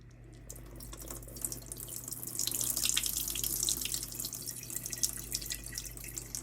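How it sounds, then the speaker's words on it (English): Water draining from a batch of garlic fried rice through a splatter screen on a Blackstone griddle, a steady running, splashing pour with trickles and drips, swelling midway and continuing close and fairly loud without talk. "So just drain the water out."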